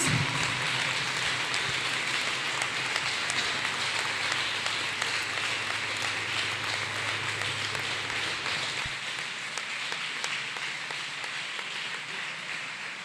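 A church congregation claps for Jesus, a dense, continuous wash of many hands clapping at once, loud and close, while a low background hum drops away partway through.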